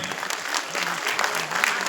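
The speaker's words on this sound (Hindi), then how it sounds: "तालियां होती रहनी चाहिए भाई।" Audience at a school cultural evening applauding, a dense steady clatter of many hands clapping close by, continuous through the short stretch with some voices mixed in.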